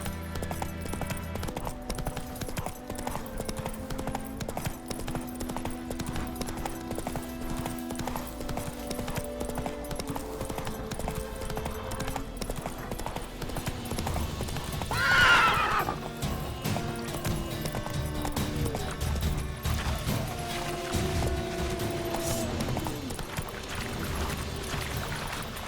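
Roach, a horse in The Witcher 3 video game, gallops with continuous rhythmic clip-clopping hooves under a rumbling game soundscape, and a loud neigh breaks out in the middle.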